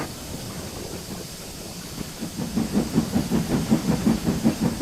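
Steam engines shunting trucks in a rail yard, a rhythmic chuffing and clanking that starts soft and quickly grows into a steady, regular beat at moderate distance, with a constant hiss beneath.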